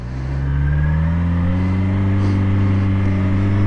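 Engine of a Yamaha FZ6R motorcycle running steadily while being ridden, a loud continuous low drone with smooth harmonics that rise slightly in pitch, no talking.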